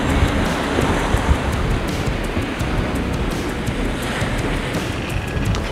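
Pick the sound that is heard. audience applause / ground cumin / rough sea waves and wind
rough sea waves and wind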